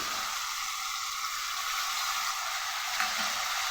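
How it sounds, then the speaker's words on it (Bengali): Ginger garlic paste frying with vegetables in a pan gives a steady, fairly soft sizzle throughout, with a faint stirring scrape near the end and no talk. "তিনটাকে একসাথে ভালো করে ভাজবো। হালকা ভাজার পর এর মধ্যে দিয়ে দেব বেটে রাখা এই যে আদা রসুন।"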